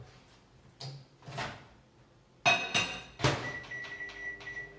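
A microwave oven door clicks open and shut in a home kitchen, with a few sharp latch knocks and button beeps, then a faint hum as it starts running.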